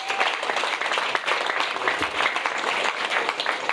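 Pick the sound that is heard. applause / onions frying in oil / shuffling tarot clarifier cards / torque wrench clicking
applause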